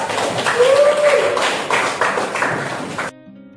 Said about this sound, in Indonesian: Oke, beri tepuk tangan untuk kelompok 4.